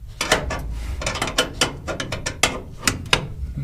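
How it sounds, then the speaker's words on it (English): A half-inch wrench ratchets on a nut while a pedal is being removed from a 1966 Dodge Charger, sounding as a quick series of crisp metallic clicks in uneven bursts, close and clear. "Coming from the back with just a regular wrench, half-inch wrench."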